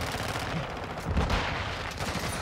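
Rapid gunfire from a military shooter video game, a dense burst of shots with a heavier thump near the middle, steady and fairly close throughout.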